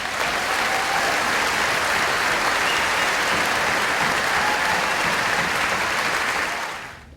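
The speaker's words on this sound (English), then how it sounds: "Please give them a round of applause." Sustained applause from a large audience at a 2013 middle school graduation ceremony, steady dense clapping at full volume for several seconds before tapering off at the end.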